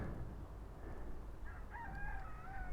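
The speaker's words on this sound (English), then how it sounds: "You can hear the roosters there in the background." Roosters crow in the background during a motorcycle trip in Baja, their rising calls drifting in from a distance over a steady wash of low wind or road noise.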